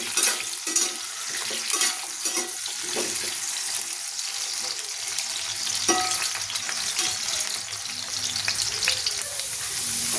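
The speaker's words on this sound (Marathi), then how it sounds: "आता इथे मी बटाटे चांगले लालसर होईपर्यंत परतवून घेणार आहे." Potatoes fry in oil until golden for dhaba-style dum aloo, giving a loud, constant sizzle and hiss with occasional scraping stirs close by.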